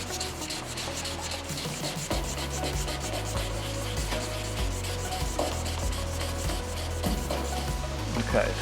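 A paint run in the clearcoat of a muscle car respray being rubbed down by hand, a continuous close abrasive rasping with steady back-and-forth strokes over a low hum.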